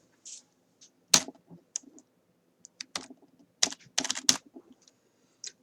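Fingers type an Excel function on a computer keyboard, close irregular clusters of crisp key clicks with short pauses between bursts, no talking.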